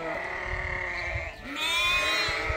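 Suffolk lambs bleat outdoors, wavering cries rising over a low background of ambient noise, fairly near and moderately loud.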